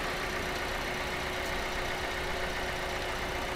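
A 2015 Toyota Grand New Avanza G automatic idling, a steady, even engine hum recorded up close with no variation in level throughout.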